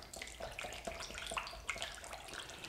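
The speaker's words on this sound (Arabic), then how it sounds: "وراح نضيف كمية من الماء اللي يكون شوية سخون" Warm water is poured into a baklava dough mixture in a bowl, giving a soft, steady trickle with small splashy bursts, quiet and close.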